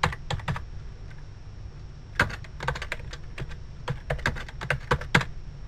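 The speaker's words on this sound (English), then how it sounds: "Now, we'll type in an address." Keys clatter on a computer keyboard during an HTML lesson, typing in bursts of quick clicks with short pauses in a quiet room.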